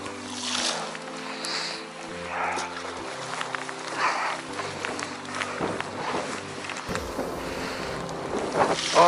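Wind blows hard and steadily by the sea while fishing for opaleye from broad rocks, a continuous rushing roar with some gusts and clatter.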